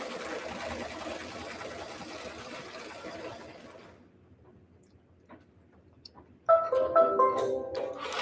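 A home sewing machine stitches fabric with neutral thread in a fast, steady whir of the running needle, then goes nearly silent for a couple of seconds before a loud close burst of stitching starts again.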